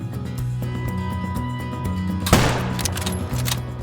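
A 7mm bolt-action rifle fires in Call of the Wild, one sharp loud crack midway through, ringing out over a steady background game hum and tones.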